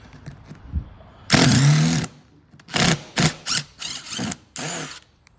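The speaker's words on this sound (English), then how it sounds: "just like so, drill them out." A power drill whirs in several short bursts, one longer run then a string of quick stop-start pulses as old screws are drilled out of a Monaco motorhome's upper belt line, close by.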